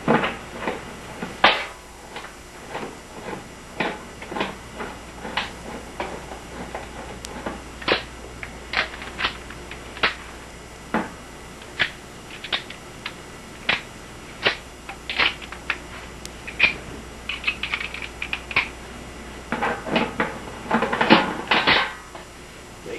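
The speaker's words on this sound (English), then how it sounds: "Take the two screws loose." A screwdriver loosens the two screws on a bathtub drain faceplate, giving a string of sharp metallic clicks and scrapes at irregular intervals, close and distinct, that bunch together near the end.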